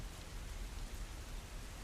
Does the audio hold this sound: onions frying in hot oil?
no